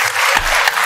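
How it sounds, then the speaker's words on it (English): A studio audience at a Welsh talent show semi-final claps loudly for two contestants, Gerwin and Millie, in a dense burst of close applause with no talk over it. "I think they both deserve a massive round of applause"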